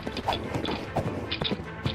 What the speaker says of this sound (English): Yeah, so you can ride a horse.